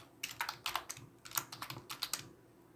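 Keys clatter on a computer keyboard while Arduino Uno code for an IR sensor is entered, an irregular run of close, crisp keystrokes with short pauses between bursts and no speech.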